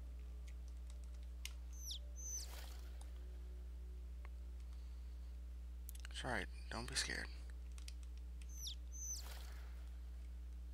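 Short, high bird chirps in the Angle of Death video game come in faint, sparse bursts over a quiet hum while a person speaks.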